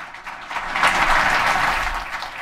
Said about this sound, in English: Round of applause for Rob Pike, please.